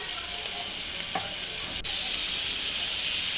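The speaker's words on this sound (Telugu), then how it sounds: "తర్వాత కొద్దిగా కరివేపాకు వేసి మంచిగా 3 మినిట్స్ ఫ్రై చేసి ఉంచాలి" Curry leaves frying in a pan for a mutton curry, a steady dense hiss of hot oil that stays loud and close throughout, with one brief stir knock midway.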